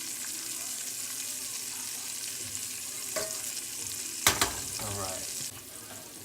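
Seasoned food stirred on a flat top griddle while a ribeye dinner with bacon is cooked, a steady loud sizzle with a few sharp scraping strokes of a utensil near the end and a brief spoken word.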